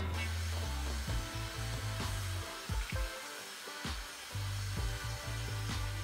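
A handheld hair dryer blows on hair during a professional blowout, a loud, close, steady whir that shifts in pitch and loudness as the airflow is moved and briefly dips.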